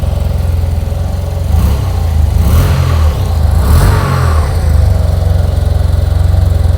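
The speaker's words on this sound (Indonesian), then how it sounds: "Suara 2 silindernya cakep ya kan." A Yamaha TMAX twin-cylinder scooter with its stock exhaust idles loudly nearby, then is given a few quick throttle blips that rise and fall before it settles back to a steady burble.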